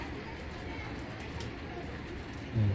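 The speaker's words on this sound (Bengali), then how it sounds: "দুইটা কবুতর একবারে অস্থির অস্থির" Pair of pigeons cooing in a low, continuous murmur, close by and fairly quiet, with a deeper coo swelling at the end.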